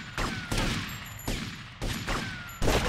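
Repeated gunshot bursts from a police station shootout in GTA Vice City, sharp loud volleys recurring every half second or so, with a faint electronic tone running underneath.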